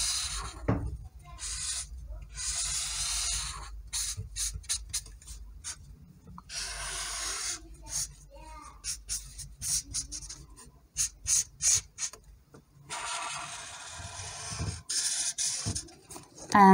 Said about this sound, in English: I'm tracing again.